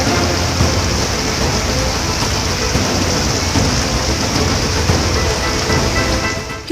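Steady, dense rain pours down on the main road at Badrinath in the mountains, a continuous loud wash of water hitting pavement throughout with no voices.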